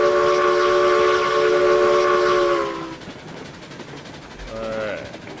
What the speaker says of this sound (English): Lima with a heck of a whistle.